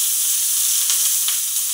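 Onion roasting in a little oil on a hot tava griddle gives a steady, loud sizzling hiss with faint crackles throughout, and nobody talks over it.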